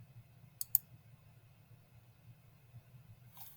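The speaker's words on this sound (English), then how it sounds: "So I'm going to click save on that one." Two quick, crisp computer mouse clicks close together as save is pressed while building an online assessment in Otus, with a faint low hum underneath and no voices.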